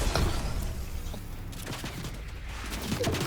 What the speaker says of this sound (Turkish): Sağdan soldan da sıkıyorlar.